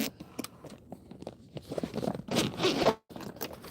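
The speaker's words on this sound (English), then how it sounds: "This zipper got hacked up pretty good." A zipper on a damaged tool pouch is pulled open and closed in several quick rasping runs, close and clear, with a louder sustained zip near the end before it stops.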